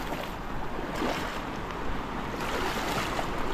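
Strong floodwater current roars in a dense, continuous rush with no break, close to the microphone and wind-buffeted, with no voices over it.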